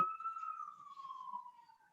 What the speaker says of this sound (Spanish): Désolé, il y avait une ambulance.